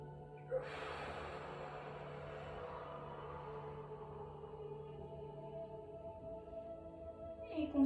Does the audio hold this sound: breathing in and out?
yes